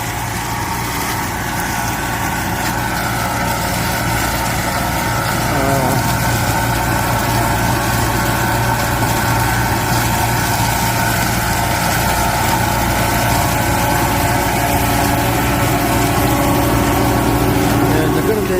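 Tractor with a 2500 mm mounted mulching mower fitted with triple-blade combination knives works wet ground after rain, a steady continuous engine drone with low hum throughout, close and fairly loud.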